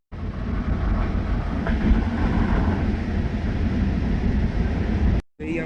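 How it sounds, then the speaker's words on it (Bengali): The Howrah-Amritsar Mail passenger train runs along with a constant loud rumble and rattling wheel noise, heard from close inside, then a brief cut to silence before the rumble resumes near the end. "এই ট্রেন জাস্ট কিছুক্ষণ পর মোরাদাবাদে ঢুকবে"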